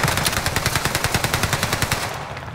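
Automatic gunfire in the Warzone battle royale game on Rebirth Island: a loud, rapid, steady stream of shots with an evenly pulsing rhythm, close and dominant, slightly tailing off at the end.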